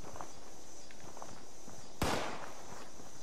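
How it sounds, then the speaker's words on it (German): A single sharp gunshot cracks out in the video game Fallout 76, standing out once against a quiet, steady ambient hum. "Wer schießt denn hier?"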